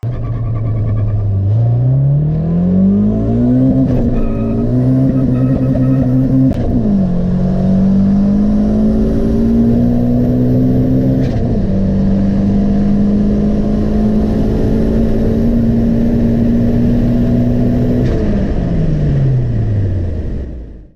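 A turbocharged Honda D-series engine running 30 psi of boost in a Civic, revving loud and close through several long accelerating pulls with gear shifts, the pitch climbing, dropping briefly, then climbing again before easing off.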